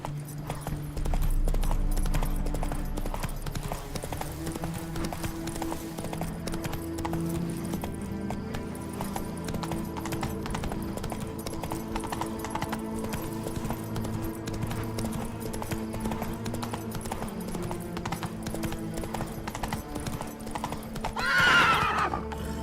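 Horse hooves clip-clop steadily at a gallop in the Witcher 3 video game, with occasional whinnies and a brief neigh near the end, over a continuous layered game soundtrack.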